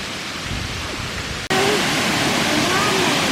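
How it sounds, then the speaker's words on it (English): Rushing waterfall in the rainforest at Kuranda, Queensland, a dense broadband roar that starts muffled, then jumps abruptly louder and fuller, with faint voices beneath. "That's the waterfall between the trees there."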